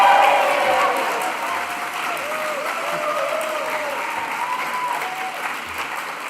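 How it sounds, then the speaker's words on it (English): A graduation hall audience of graduates and guests applauds and cheers for the class of 2025, a broad steady wash of clapping with whoops and shouts riding on top, loudest at the start and easing slightly. "Massive cheer, graduates and guests alike, for the class of 2025."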